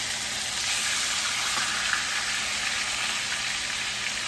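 Lamb chops fry in rendered grease in a pan, a continuous bright crackling sizzle that holds steady and close throughout, with no one talking.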